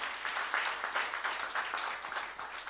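A church youth congregation claps continuously in a dense, fairly quiet wave of applause during a sermon service, with no voices over it.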